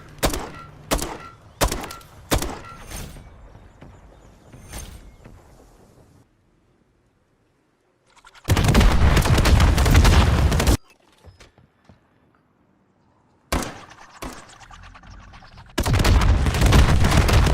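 Repeated shots from a spawn tube in Modern Warfare III, fired in sharp bursts: a run of separate thumps early on, then long dense volleys of sustained gunfire broken by short quiet gaps, loud and close.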